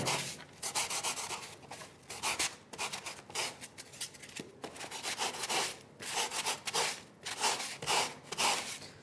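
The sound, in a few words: sanding the edges of a shaped part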